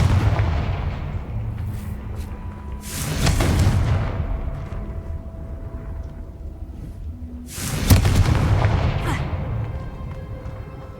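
Two heavy booming blasts from the Confringo spell in Hogwarts Legacy, each a deep rumbling explosion that fades slowly, spaced a few seconds apart over a low game ambience.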